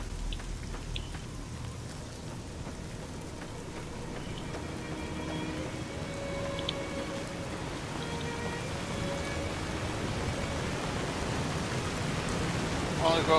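Steady rain hisses down during a storm in the game Fallout New Vegas, a soft, even wash of falling drops with faint distant rumbling, continuous and fairly quiet throughout.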